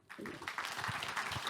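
An audience at an education conference breaking into applause for a speaker, a brief, close burst of dense clapping that starts abruptly and keeps going.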